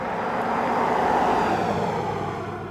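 Cars and trucks pass on the road beside a walker on the shoulder, facing oncoming traffic. A loud, broad whoosh swells near the middle and then fades slightly, with constant road noise and no voices.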